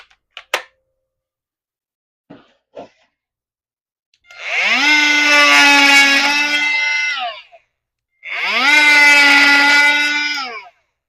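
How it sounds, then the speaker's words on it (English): An oscillating multi-tool cuts into wood in a workshop: two sustained buzzing bursts of about three seconds each, loud and close, preceded by a few sharp clicks and knocks, with no talk. "So I will employ the multi-tool for that."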